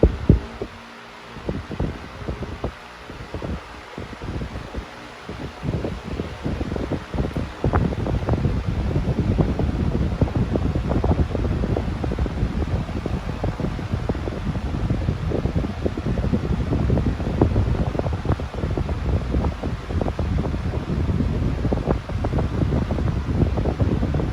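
A Simple Deluxe 20-inch electric fan runs steadily on medium speed, its blades producing a broad, close whooshing rush with faint rhythmic thumping and a slight vibration throughout, no voices over it.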